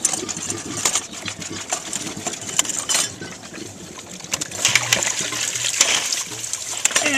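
Water splashing and trickling out of a pool pump as its motor is pulled straight back from the housing, close and fairly loud, with irregular metallic clinks and a steady wet spatter throughout.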